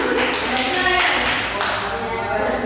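Classroom group clapping for a team of students after their presentation, a steady dense patter of many hands close by, with some voices mixed in underneath.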